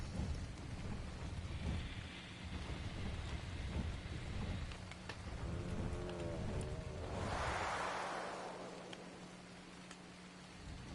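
Rain falls at night in the survival game Ark Survival Evolved, a soft steady patter with low rumbling thunder rolling through and a brighter gust of rain swelling midway, no talking over it.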